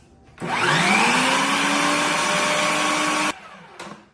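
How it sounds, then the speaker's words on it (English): A blender whirs loudly for about three seconds while mixing oat and cottage cheese batter, its motor pitch rising then holding steady before cutting off, followed by a brief rattle. "we're going to put all that together in the blender"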